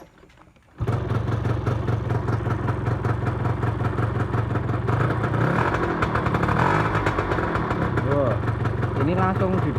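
An N Max scooter engine starts up after near silence and runs close by at a steady, buzzy idle, with a slight rise in revs toward the middle.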